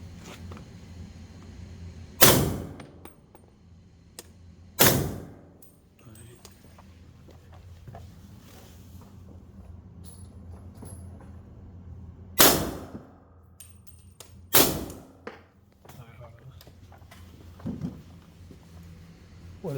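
Four sharp, suppressed reports from subsonic 300 Blackout rifle rounds ring out at uneven intervals, each a brief crack with a short tail, over a quiet outdoor background with faint voices.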